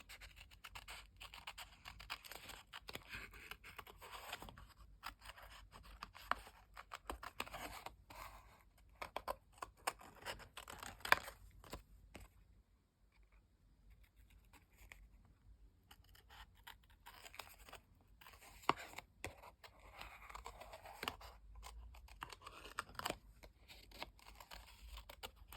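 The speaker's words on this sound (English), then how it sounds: "I think I want to cut them out." Scissors snip and scrape through paper, cutting out glittery floral shapes, producing faint, close, irregular crisp cuts and rustles with a quiet pause in the middle.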